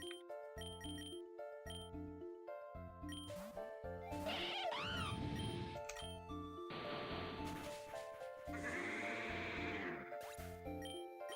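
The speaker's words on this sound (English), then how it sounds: "It's a goat." Wavering goat bleats from an enemy in the role-playing game Persona 4 Golden, three drawn-out cries sounding over a looping, plucky battle tune, with no one speaking.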